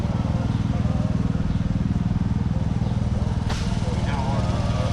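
A running 1922 Hercules Model F engine rated at 1.5 horsepower, shown at an old-time days show, thumps steadily at close range with a constant low rhythmic chug, alone and without pause.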